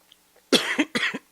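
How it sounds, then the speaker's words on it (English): Three quick, harsh coughs in a row, loud and near, alone without speech. "Trying to cough away from there"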